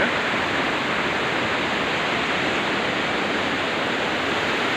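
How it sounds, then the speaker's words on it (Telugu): Strong sea waves at Murudeshwar beach make a dense, continuous roar of surf that stays loud and broadband throughout with no pauses. "సముద్రం అయితే అలలు చాలా చాలా ఎక్కువగా వస్తున్నాయి."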